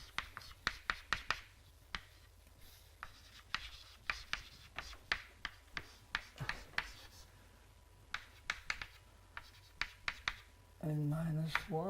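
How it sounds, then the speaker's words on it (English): Handwriting during a university lecture: a quick run of sharp, dry strokes and taps, close and fairly quiet, with brief pauses and a short burst of speech near the end. "So I really have to write it"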